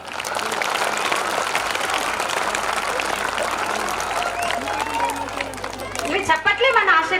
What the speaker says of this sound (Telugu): ఆ పిల్లలకు వాళ్ళ తల్లిదండ్రులకు ఒక్కసారి గట్టిగా చప్పట్లు.